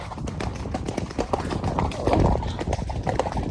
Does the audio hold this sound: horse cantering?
yes